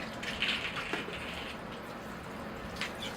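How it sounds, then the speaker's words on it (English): Water pours from a watering can onto sand in a bonsai pot, a soft, steady, close splashing and trickling with a few brighter spatters, fairly quiet and without speech. "Okay, here I go with the water."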